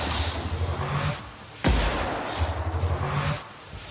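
Enemies fire guns at the player in The Outer Worlds, a sci-fi shooter, bursts of rattling gunfire broken by a sharp, loud crack in the middle, then more rapid shots.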